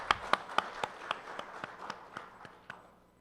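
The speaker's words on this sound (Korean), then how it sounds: "박수 한번 더 크게 칠게요" Audience at a smart construction safety forum clapping, a thin scattering of separate claps in an uneven rhythm that thins out and fades over a few seconds.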